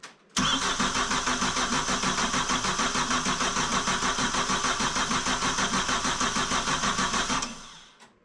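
A monoboom skid steer engine with a freshly rebuilt motor and a fuel delivery problem cranks steadily for about seven seconds, a loud, continuous rhythmic churning close up that never catches, then stops.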